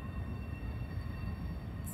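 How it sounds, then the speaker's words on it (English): A train rumbles past near a river at Clarksville, Indiana, across from Louisville, a steady low continuous roar heard from a distance without speech. "we have a train coming past here right now"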